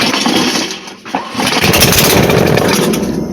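A 5 hp Briggs and Stratton small engine sputters briefly, then fires and keeps running with a loud, steady buzzing roar close to the microphone.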